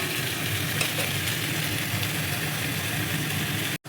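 Chicken pieces being stir-fried (kasha) in a pan make a loud, continuous sizzle and scrape that stops abruptly at the very end.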